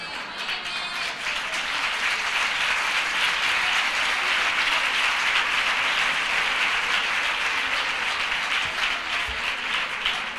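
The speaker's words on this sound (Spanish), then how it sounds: "Pero esos aplausos, ese clamor" Sustained audience applause fills a lecture hall after a talk on neuroeducation, a steady dense wash of many hands clapping at even loudness throughout, with no speech over it.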